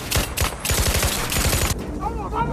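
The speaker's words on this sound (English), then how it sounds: "Baker is shot and killed during the intense shootout" Rapid bursts of gunfire crackle through an intense movie shootout during a heist gone wrong, dense volleys repeating for about two seconds before easing into a quieter tail, mixed with dramatic effects.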